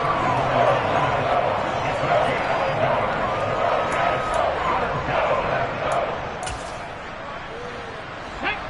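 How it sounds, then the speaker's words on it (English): A stadium crowd in Madden 23 roars as a broad, steady wash of cheering that swells slightly, with a commentator talking over it. "Crowd getting in it a bit already."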